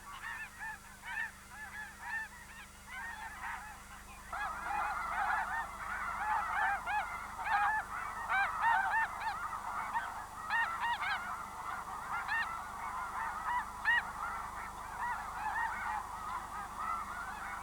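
A large flock of migrating geese honks at a wildfowl refuge amid croplands, a dense, continuous chorus of overlapping calls swelling louder after the first few seconds, with no voices.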